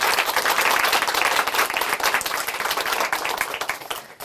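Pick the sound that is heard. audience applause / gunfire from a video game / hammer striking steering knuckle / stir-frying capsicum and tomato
audience applause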